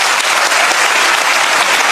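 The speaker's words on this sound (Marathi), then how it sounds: "एकदा विचार मंचासाठी जोरदार टाळ्या होत्या" An audience at a Marathi public talk bursts into loud, sustained applause, dense clapping from many hands that stays strong throughout.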